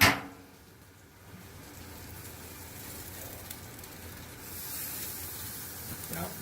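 Wagyu tri-tip sizzling on the grate of a Sweet Smoke Q drum smoker as it is flipped, a steady close hiss of searing fat after a sharp initial clatter, swelling slightly toward the end.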